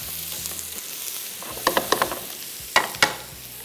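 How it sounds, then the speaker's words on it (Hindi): Garlic and onion sizzle in hot oil in a pan for a mutton keema dish, with a steady close hiss and a few sharp clinks of a spoon stirring against the pan. "इन दोनों चीज़ों को, यानी लहसुन और प्याज को थोड़ा सा फ्राई करेंगे।"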